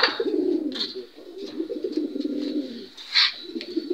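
Grizzle pigeons cooing in a loft, a steady run of low, throaty coos close by, with a few brief higher chirps and sharper calls mixed in over about four seconds.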